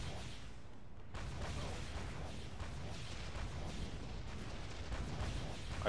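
Gunfire from Duke Nukem Forever, a steady dense wash of loud shots and booming blasts running almost without break for several seconds.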